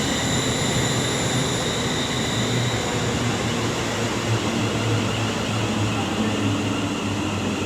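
A Class 350 electric train, units 350-108 and 350-410 running as a double set, passes at Coventry on the West Coast Main Line with a steady, loud rolling roar and a faint whine, continuous and without voices.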